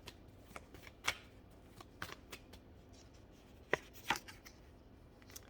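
Reading cards shuffled by hand at close range, quiet riffles and soft slaps in irregular bursts, a few sharper snaps standing out, no talking.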